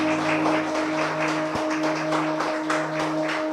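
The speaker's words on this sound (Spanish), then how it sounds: "Un aplauso al Señor." Congregation applauding the Lord during a church service, a dense continuous wash of hand clapping over a steady electrical hum, without pause from start to finish.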